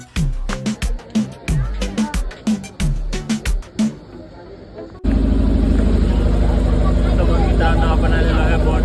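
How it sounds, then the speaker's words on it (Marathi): A boat engine starts up with a sudden loud, steady drone and rumble that continues without a break, following a stretch of speech in the first half. "बोट चालू आहे"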